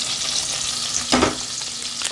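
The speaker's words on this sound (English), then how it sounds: "We are going to melt our butter." About 80 grams of butter melting in a pan, a steady bright sizzle with a brief louder crackle midway, close and alone.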